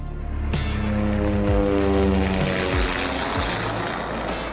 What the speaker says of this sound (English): adding distortion to a box fan can make for a really convincing airplane engine